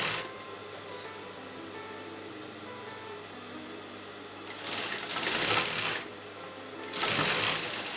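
A sewing machine stitching canvas onto a salwar, quiet and steady at first, then two loud bursts of fast rattling stitching separated by a short pause.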